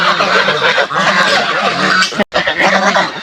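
A flock of domestic geese honks loudly and continuously, many overlapping calls close by, with a brief sharp break near the end.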